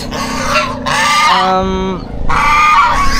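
Loud, harsh honking from nearby geese in several bursts, with a brief nasal, tonal call in the middle.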